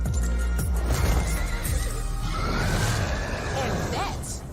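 A horse whinnies in a loud, quavering neigh over a busy scene with clip-clop and whooshing effects, while people talk through much of it.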